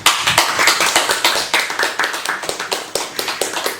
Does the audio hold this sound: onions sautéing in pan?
no